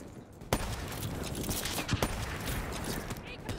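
Gunfire in the video game Call of Duty Black Ops 3 crackles in dense, loud, irregular bursts with sharp shot transients, amid steady game noise.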